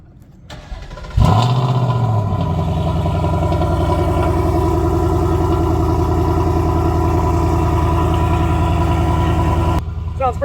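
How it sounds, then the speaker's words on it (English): A 2024 Mustang GT with a GT350 X-pipe and American Racing headers cold-starts with a sharp cranking bark, then settles into a loud, steady, rumbling high idle that holds for several seconds before dropping off. "So this is a cold start with a GT350 ARH XPipe."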